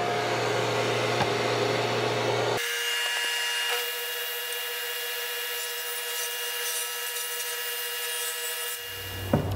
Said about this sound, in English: just put this little bevel on with the table saw